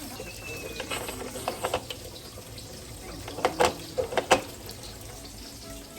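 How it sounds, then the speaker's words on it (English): Cold tap water running over the lid of a pressure cooker holding feijoada beans, a steady hiss of flow with splashing bursts as the stream hits the metal, close and fairly quiet. "So you take cold water, just run over the top until your little button drops."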